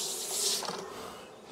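Honey bees being lifted off hive frames make a dense, close buzzing hum that peaks early and then settles into a steady, slightly softer drone.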